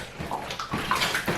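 Water sloshing and splashing around a vinyl-covered raft as it is pushed and rocked, with repeated close, uneven splashes across the stretch.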